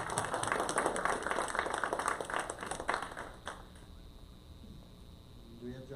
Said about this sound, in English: One last round of applause for TJ.